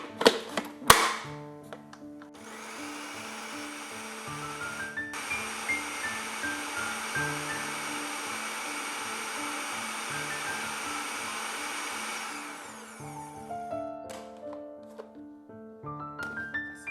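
A blender grinds sliced onions, green chilies and tomatoes in a steady whirring run of about eight seconds, starting after a few knocks and ending with clatter, with background music throughout.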